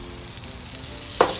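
Steady hiss of butter and oil sizzling in a frying pan, close and continuous, with a couple of brief louder crackles near the end.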